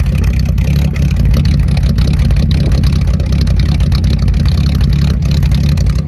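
A 1941 Chevrolet Special Deluxe engine running with a steady, loud, deep exhaust burble, continuous low rumble from close behind the car with no talking.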